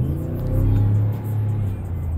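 A 2019 Dodge Ram Bighorn pickup truck accelerating hard, its engine a steady, loud low rumble that swells briefly in the middle, heard from inside the cab with no talking.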